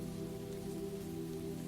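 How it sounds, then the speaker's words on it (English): Soft, steady rain falls outside a Barcelona bookshop at night as an even, continuous hush under a low tonal hum, quiet and unbroken with no voices. "Only the hush of rain"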